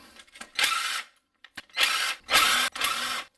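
Power tool spinning out the 10mm transmission pan bolts on a Toyota Corolla with an A240L transmission, in three or four short whirring bursts separated by brief clicks and pauses, close and loud.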